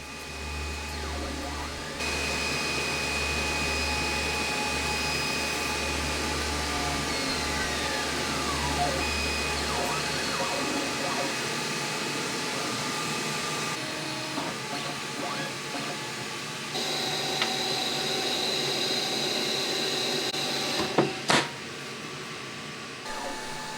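An AtomStack Kraft 20-watt diode laser cuts 8-ounce veg tan leather with a steady airy hum and fan whir, a low rumble fading partway through, close and continuous with a few faint clicks near the end.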